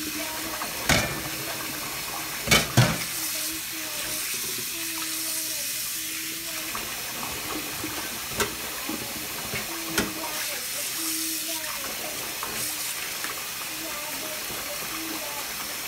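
Food being rinsed by hand in a basin of water while making jabchae in a home kitchen, with steady sloshing and trickling, occasional louder splashes and knocks, and faint voices in the background.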